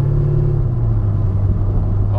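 A drag-strip car cruises with a steady, loud low exhaust rumble that holds throughout, droning without sharp revs, and a voice can be heard under it.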